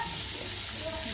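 Baguio beans stir-fried in a hot wok for pancit bihon, a steady close sizzle and crackle of oil with the scrape of stirring running through the whole moment.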